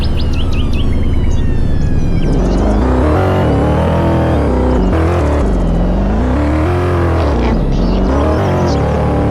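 A Volvo XC90 in a driving video game revs and accelerates loudly and continuously, its engine tone rising and falling, with brief chirpy effects early on.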